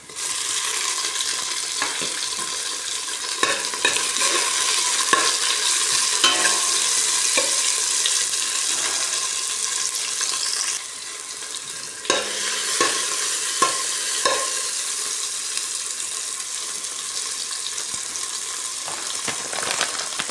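Tomatoes going into a pan of mixed vegetables, stirred and fried: a steady sizzle throughout with scraping stirs and clinks from a utensil against the pan, close and clear, no talking.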